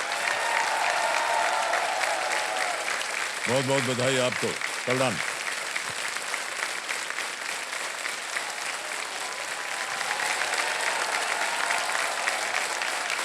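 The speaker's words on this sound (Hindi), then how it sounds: "तालियां बजती रहे इनके लिए।" Studio audience on a TV quiz show applauding steadily throughout, with a voice briefly speaking over the clapping partway through.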